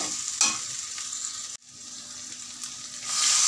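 Paneer and potato curry sizzling in a pan with gravy poured in, a steady close hiss with a brief stir or scrape early on and a sharp cut midway before the sizzle builds again.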